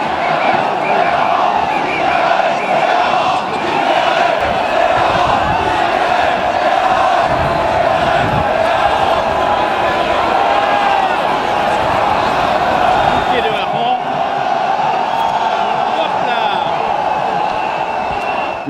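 A dense crowd at the Dunkirk Carnival herring throw in front of the town hall, loud continuous shouting and cheering filling the whole stretch, with voices calling out over the din.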